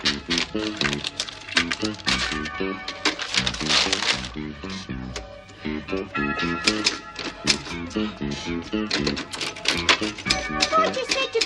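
Two-finger typing on a manual typewriter in a prison office: steady, uneven clacking of keys, close and fairly loud, running continuously with speech heard over it in places.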